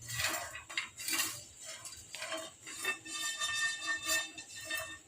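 Ingredients dry-roasted in a pan and stirred continuously, with repeated scraping and clinking of a utensil against the metal in an uneven rhythm, close and moderately loud.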